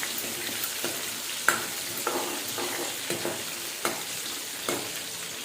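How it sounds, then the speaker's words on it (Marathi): Green chillies sautéing in a pan: a steady, soft sizzle broken by periodic scrapes and stirs of a spoon, fairly quiet and with no talking. "परतून घ्यायचे चांगले."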